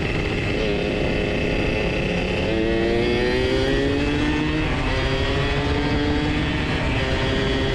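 Ported Suzuki Satria two-stroke motorcycle engine revving hard under way while chasing a Ninja, a loud close buzzing wail with pitch sweeping up through the gears, continuous with wind noise throughout.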